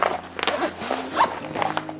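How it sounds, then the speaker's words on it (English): A zipper runs along a toiletry bag being closed, a quick series of close scratchy pulls with faint handling noise over a low steady hum. "this bag here zips up like this"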